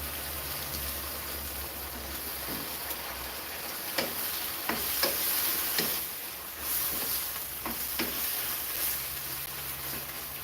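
Steady frying sizzle with a constant hiss, broken by a few sharp crackles and pops, fairly close, with no voices.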